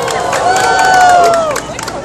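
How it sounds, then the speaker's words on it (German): Outdoor crowd at a Lions Club duck race on the Panke river cheers and shouts, a loud burst of voices and whoops with some clapping, swelling and then easing off. "Applaus!"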